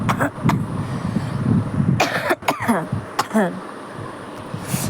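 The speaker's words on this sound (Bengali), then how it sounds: "হঠাৎ করে একটু কাশি হয়ে গেল" A woman gives a few sharp, separate coughs indoors, with brief voice sounds in between and faint vehicle noise in the background.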